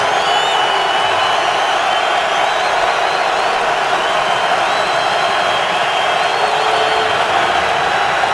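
Loud, dense roar of a stadium crowd cheering at a Patriots home football game against the Bengals, a steady wall of noise with whoops rising above it, continuous for the whole stretch.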